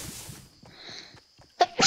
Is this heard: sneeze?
yes